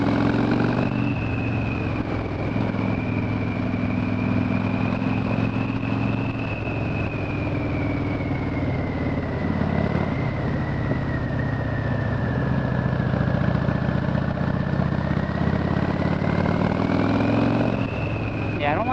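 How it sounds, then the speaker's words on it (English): A Harley-Davidson motorcycle engine climbs a hill on a wet Kentucky backroad, a steady low droning rumble with a whining tone that rises and falls as the load changes, heard close from the rider's position. "see what the bike sounds like up here"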